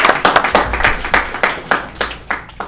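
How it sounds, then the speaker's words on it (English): Scattered applause at a general membership meeting: a small group claps in uneven bursts, close and fairly loud, with individual hand claps clearly separated for a few seconds. "please applaud"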